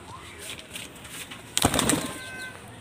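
A female pigeon of an old Madras Mundi sada dasu bloodline is let go and beats its wings in one sudden, close flurry of flapping lasting about a second, following a quiet stretch.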